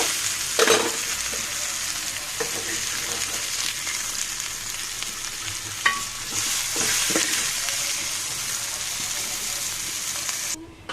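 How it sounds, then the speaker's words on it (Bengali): Onions fry in hot oil in a pan for a rohu fish curry with raw banana, giving a steady, close sizzle broken by occasional stirring scrapes and clatters, with no talking. "পেঁয়াজের জন্য কাঁচা গন্ধটা চলে যায় সে পর্যন্ত আমি পেঁয়াজটাকে ভেজে নেবো"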